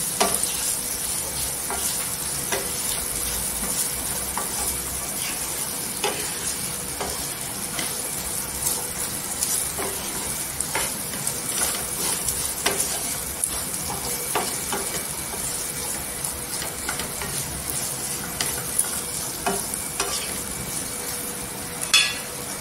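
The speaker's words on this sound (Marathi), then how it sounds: "तेलावर परतून घ्यायची आणि याच्यामध्ये मसाला पण जाणार आहे" Okra (bhindi) sautéing in oil in a pan, a continuous close sizzle with intermittent spatula stirs and light clinks against the pan, steady throughout.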